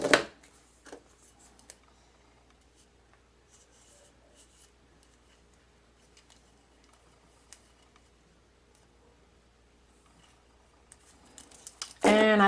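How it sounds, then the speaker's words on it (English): Scissors trimming the bottom edge of a rhinestone tumbler wrap, with faint, sparse snips and small ticks at close range in a quiet room, framed by brief louder bursts at the start and end. "And I can trim some more of the bottom"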